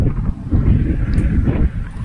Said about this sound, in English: It's really windy, y'all.